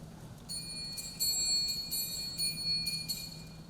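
A triangle rings out in a quick series of bright metallic strikes during a school spring band concert performance, fairly close and clear over a soft background.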